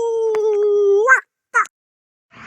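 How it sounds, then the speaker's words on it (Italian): A dog gives one sustained howl that breaks into a yelp, then a second short bark after a pause, loud and close, on a roadside in the countryside near Borgo San Dalmazzo. "Ma qua ci sono i cani feroci."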